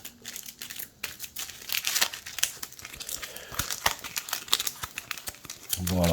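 A deck of cards for the Mage Knight board game being shuffled by hand, a busy run of crisp riffling, flicking and tapping card sounds, close and continuous with no talk.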